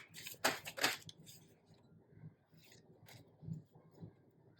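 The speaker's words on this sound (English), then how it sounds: "So we are going to shuffle the cards again." Tarot cards being shuffled by hand, a few sharp riffling bursts near the start, then softer scattered card rustles and taps, close and quiet.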